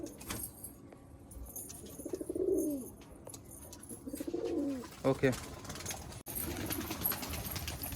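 Malwai pigeons for sale coo in two or three rolling, close phrases over a noisy background, with brief clinks and a short spoken word from a person.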